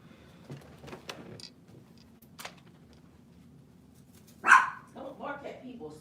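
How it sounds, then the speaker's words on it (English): A single sharp dog bark rings out close by, preceded by scattered quieter sounds and followed by a few softer yips, with a person speaking around it. "Don't bark at people, stop it."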